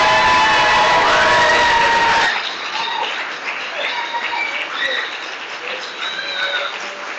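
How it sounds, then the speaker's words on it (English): Graduation ceremony audience breaking into applause and cheering, a dense roar of clapping with shouts that drops to a lighter, steadier clapping with scattered voices partway through. "give them a round of applause"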